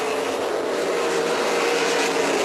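NASCAR K&N Pro Series East stock cars roar toward the finish at New Smyrna Speedway in 2018, a steady, loud, continuous engine drone with no voices.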